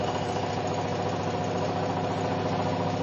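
Motor-driven generator rig running up to speed, a constant close mechanical hum and whine with a steady low drone and fine rhythmic vibration throughout, no voices.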